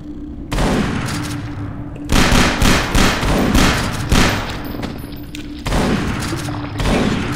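Repeated shotgun blasts in the Half-Life 2 mod 1187, loud broadband bursts arriving in uneven clusters over several seconds, with a steady low game hum running beneath and no talking.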